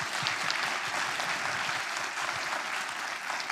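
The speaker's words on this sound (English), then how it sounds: "A round of applause." Audience applause at the close of a conference session on planetary health, a dense, sustained clapping from a crowd that holds steady for several seconds, with no talking.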